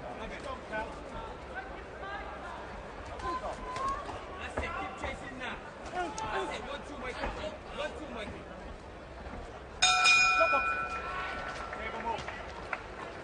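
A boxing ring bell rings once at a bout's round end, loud and close, its tone lingering over steady crowd noise and voices.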